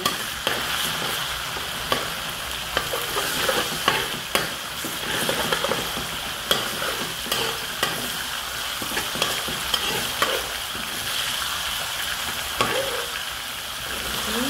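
Ground chicken frying in a pan for fried rice, with a constant moderate sizzle and repeated stirring clacks and scrapes, no voices.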